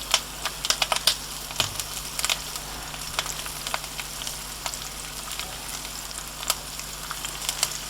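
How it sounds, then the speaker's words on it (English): Bacon sizzles in a pot with garlic and herbs on a kamado BBQ, a steady crackling fry with scattered sharp pops throughout and no talking. "And onto this we are going to lay carefully the bacon."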